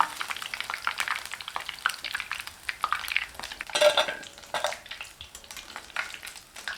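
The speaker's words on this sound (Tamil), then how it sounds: "காளானில் இயற்கையாகவே கொஞ்சம் தண்ணித்தன்மை இருக்கிறனால கொஞ்சம் சலசலப்பு சத்தமெல்லாம் கேட்குங்க" Steady sizzling and crackling of mushrooms frying in hot oil, with irregular pops and spits close by and no voices.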